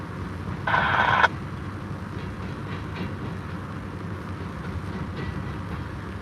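A BNSF freight train rumbles past at night in a low, steady roar, with a brief burst of bright metallic squealing near the start; no voices.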